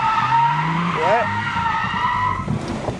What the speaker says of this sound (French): on va faire un concours de créneaux pour savoir qui se gare le mieux entre nous deux